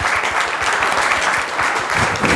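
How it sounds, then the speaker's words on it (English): An audience at a forestry and agriculture climate change conference gives a round of applause for a distinguished panel, dense steady clapping filling the room for the whole stretch. "we should give a round of applause to our very distinguished panel"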